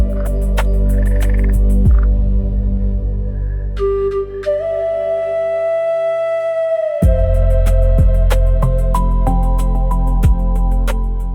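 A glass frog calls in the Amazon rainforest, with sharp repeated clicks and a sustained tonal note over dense, loud jungle insect and frog chorus.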